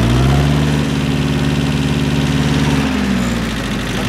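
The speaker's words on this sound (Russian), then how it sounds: "4 цилиндра здесь, двигателя. Соответственно, такой вот холостой ход." A Mitsubishi D1650 four-cylinder diesel mini tractor engine idles steadily, a loud, close, even low-pitched rumble with a fine rhythmic knock running unbroken throughout.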